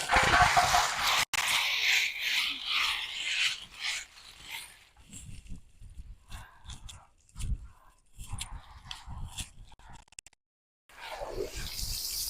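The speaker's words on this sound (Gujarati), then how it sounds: "પેલા તો અમારે કૂતરા ભાઈ હોઈ ગયા અહીંયા." A dog pants and whimpers close by in short, breathy bursts and soft whines, with brief pauses and some background clatter.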